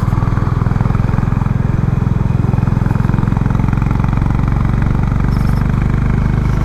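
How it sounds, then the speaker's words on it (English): Honda Highness CB350 motorcycle with its stock exhaust, a steady, loud single-cylinder thump running evenly throughout, like a close idle or low-speed cruise, with no voices over it. "You're gonna spoil the sound of the bike."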